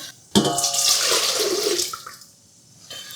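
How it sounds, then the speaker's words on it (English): Warm water poured into a stand mixer bowl, a close, steady splashing pour that starts abruptly, runs for about two seconds and then trails off. "We got some warm water here."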